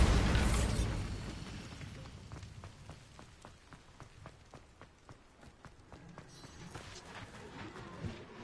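A Bombarda spell in Hogwarts Legacy lands as a loud explosive burst, followed by a decaying rumble and scattered crackling pops and debris that fade over several seconds.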